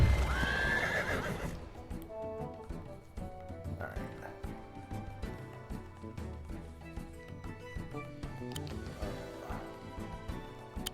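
A horse unit in the strategy game Wargroove 2 lets out a loud whinny at the start, then trots with steady clip-clopping hooves over background game music.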